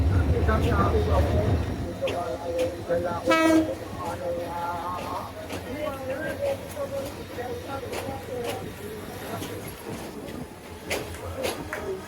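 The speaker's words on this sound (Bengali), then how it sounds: "মাইজগাঁও রেলওয়ে স্টেশনে বসে আছে ঢাকা অভিমুখী আন্তনগর জয়ন্তিকা এক্সপ্রেস" The Dhaka-bound Jayantika Express intercity train, hauled by locomotive 2916, rumbles at Maijgaon railway station. A deep engine drone opens the clip, a brief horn blast sounds, and then steady station noise continues with voices in the background.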